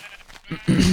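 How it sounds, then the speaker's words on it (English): Sheep bleating inside a video game: quieter background sounds give way to one loud, close bleat that fills the final moment. "Some more sheep."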